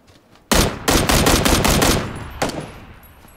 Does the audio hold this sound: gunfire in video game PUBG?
yes